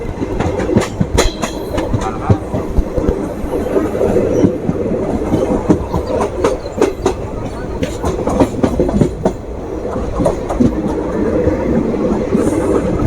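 The Howrah Kaviguru Express rolls along the rails with a loud, steady rumble and rapid clickety-clack wheel beats, heard close from on board throughout.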